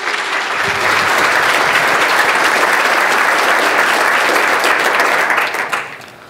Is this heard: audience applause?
yes